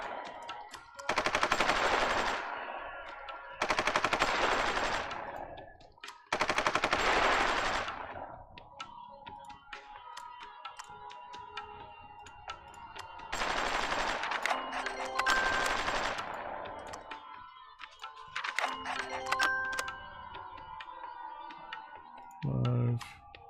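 Gunfire from the Supreme Ruler Ultimate strategy game comes in several long bursts of rapid shots separated by quieter stretches of faint clicks and mechanical tones, moderately loud.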